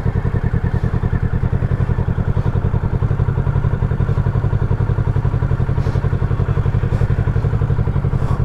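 A motorcycle rolls slowly around a licence test course, its engine chugging in a steady, rapid low pulse that stays loud and close throughout, with light clatter and no talking.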